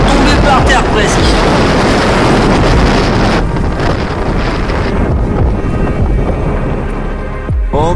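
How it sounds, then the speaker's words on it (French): Strong wind roars across a road near Istanbul, a loud, constant rushing and buffeting against the microphone that eases slightly toward the end. "Oh là là, le vent qu'il y a aujourd'hui, c'est à tomber par terre presque."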